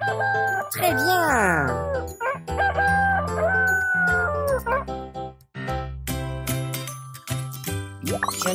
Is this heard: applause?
no